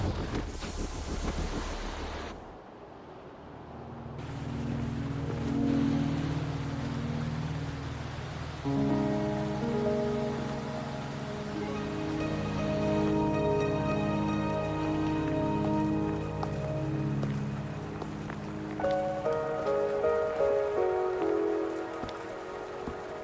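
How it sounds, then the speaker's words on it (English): Rain falls steadily in a fantasy video game, a soft continuous patter heard alongside calm tonal music, with a brief quieter gap near the start. "Are you trapped here by the rain?"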